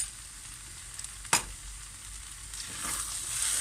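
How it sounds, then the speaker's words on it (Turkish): Chopped cabbage filling for stuffed cabbage rolls is stirred with salt in a bowl, giving a soft, continuous moist rustle with one brief sharper knock near the middle and no talking. "Şöyle karıştıralım"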